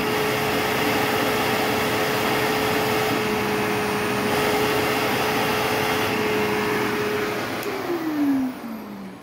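A 2005 Eureka The Boss SE 5855BZ-1 upright vacuum cleaner runs with a steady airy roar and a constant motor hum, then the pitch drops as it winds down near the end; no talking.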